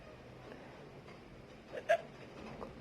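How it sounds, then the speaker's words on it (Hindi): A single sharp hiccup from a person after eating spicy food with ginger and black pepper, brief and close against a quiet room. "फाइनली हिचकी आ गई मुझे।"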